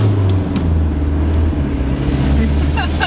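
A right-hand-drive Mitsubishi Delica 4x4 turbo van drives along, its engine giving a steady, close, loud drone from inside the cabin for a few seconds.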